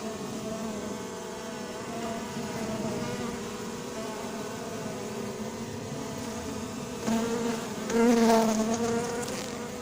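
Honeybees buzz steadily and densely around an open hive as a newly adopted queen is installed, a close, continuous drone that swells louder near the end.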